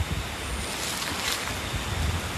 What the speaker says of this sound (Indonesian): anginnya gede banget, teman-teman